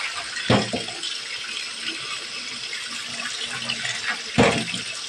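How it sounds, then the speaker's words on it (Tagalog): Running tap water pours steadily into a sink while galunggong fish are washed by hand, a close, continuous hiss broken by two louder splashes and sloshes as the fish are handled, with no one speaking. "Ito, hugasan ko muna. Hugasan ko muna ng maayos."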